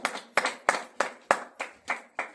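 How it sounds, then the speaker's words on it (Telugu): A church congregation claps together in a steady rhythm, about eight sharp, even claps in quick succession, close and fairly loud, with no talk. "చప్పట్లు కొట్టండి అందరు కూడా."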